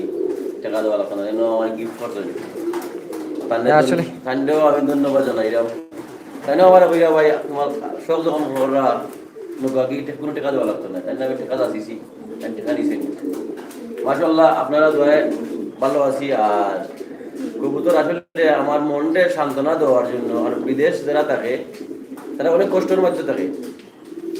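Fancy pigeons coo at a pigeon farm in Sylhet, low throaty calls running underneath someone talking almost continuously close to the mic.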